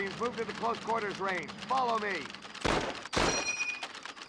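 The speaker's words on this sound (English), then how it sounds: "Love that ping on the reload there" M1 Garand rifle in Call of Duty: World at War, two sharp loud gunshots near the end followed by a bright metallic ping from the clip ejecting on reload, after a stretch of warbling game sound.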